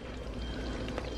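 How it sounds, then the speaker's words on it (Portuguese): Water poured into a cooking pot of simmering broth, a steady continuous splashing stream heard close up and alone. "a gente vai colocar água"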